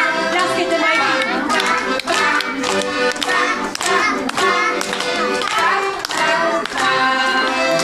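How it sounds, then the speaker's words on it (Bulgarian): Mothers at a kindergarten celebration clapping loudly and steadily together, a dense rhythmic applause that fills the room, with children's voices mixed in. "Пляскайте, майки!"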